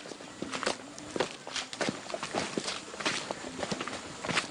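Footsteps of hikers on a forest trail, a steady run of crunching steps up close, with faint voices and light rustling in the background.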